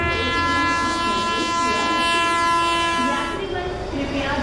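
A train standing at a station gives a long, loud, steady horn blast over the rumble of the rail cars, with busy platform noise underneath and no clear talk.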